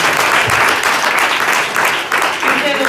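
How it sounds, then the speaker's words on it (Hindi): A congregation at a church sermon breaks into loud, dense applause, a continuous wash of clapping hands filling the room for a few seconds. "जोरदार तालियां बजाओ"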